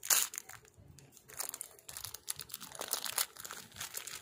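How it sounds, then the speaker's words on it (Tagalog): Plastic wrapping on a package crinkles and crunches as it is cut open with scissors, a close run of irregular rustling bursts with no talking. "so nakakuha na tayo ng gunting, then binubuksan ko na siya guys"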